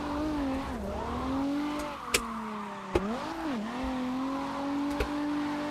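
Racing video game car drifting, its engine holding a steady droning whine that dips and rises with throttle changes, tyre squeal running underneath and a few sharp clicks, close and continuous with no talking.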